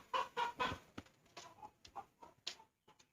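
A Modern Game Bantam chicken lets out a quick series of loud, close clucking calls, three strong bursts followed by a run of shorter, softer clucks.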